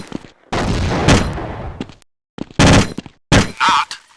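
Counter-Strike gunfire in a port battle: loud, close bursts of rapid automatic fire broken by short silent gaps, with a final sharp burst and clattering shots near the end.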